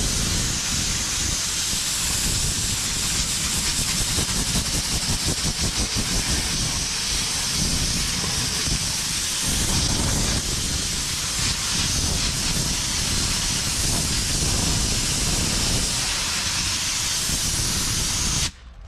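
Steady, loud hiss of blowing air drying a car tire after a tire protection coating is applied, continuous and close for almost the whole stretch before cutting off abruptly at the end.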